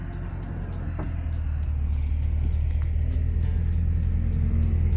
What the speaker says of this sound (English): You're gonna drop in on a rock right here.